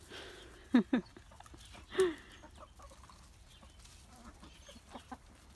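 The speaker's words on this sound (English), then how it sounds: "Chickens still scratch around." A few short clucks from Marans chickens nearby, two quick calls then another, followed by softer scattered clucking and quiet background.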